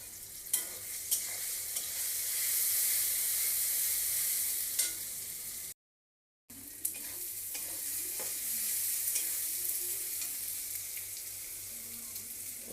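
Turmeric and chili powder frying with onion and tomato in an egg curry masala, a steady close sizzle broken by scraping stirs and a brief silent gap midway.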